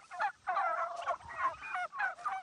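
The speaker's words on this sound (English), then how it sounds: "there's another set of turkeys right over the knoll right down there" Large flock of pastured turkeys, several hundred birds, gobbling in repeated overlapping bursts across open farmland, fairly close and steady with short pauses between calls; no talking.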